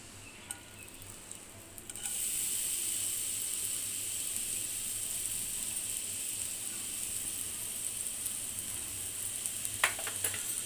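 Ground leftover roti frying in three spoons of hot ghee for halwa, a steady bright sizzle that jumps louder after a couple of seconds and holds, with a few faint scrapes of stirring near the end.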